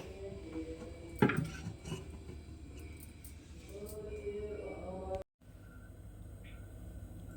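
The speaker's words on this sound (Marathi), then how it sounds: "बिर्याणीचं टोप आहे ना या तव्यावर ठेवूया" A biryani pot is set down on a heated tava griddle in a home kitchen: one sharp metallic clank near the start, a few softer knocks, then a steady low kitchen hum.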